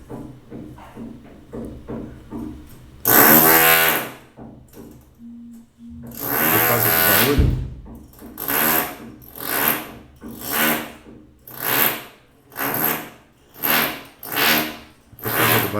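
A power drill runs nearby in bursts, first a long whirring grind and then a series of short, rhythmic pulses, loud and close, with no talking.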